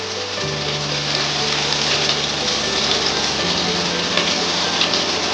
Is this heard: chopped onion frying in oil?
yes